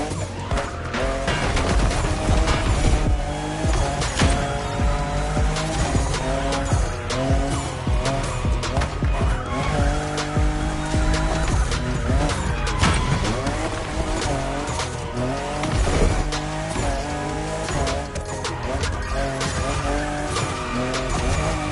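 A fifth-generation Toyota Supra races in The Crew Motorfest, engine roaring continuously with rising and falling revs and repeated tire squeals through turns, loud and close over a game music bed.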